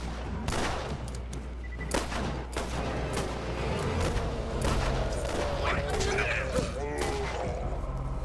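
Repeated gunfire cracks at a steady pace while shooting zombies in the Borderlands video game, mixed with game effects and a low hum, and a voice talks between the shots.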